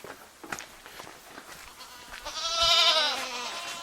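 Quiet rustling and faint sounds, then a goat lets out a loud, drawn-out bleat close by.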